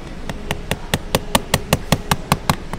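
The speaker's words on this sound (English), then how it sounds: "and I'm gonna hammer the pin out" A hammer taps a pin remover to drive the pin out of a black Michael Kors men's watch band, producing about a dozen sharp, evenly spaced metallic taps at a steady rhythm, close and clear.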